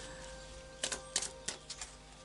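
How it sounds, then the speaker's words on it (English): Moonology oracle cards are shuffled by hand, giving a short run of soft, crisp flicks and riffles, quiet and close, with no talking. "I'll just do a final shuffle of the Moonology cards"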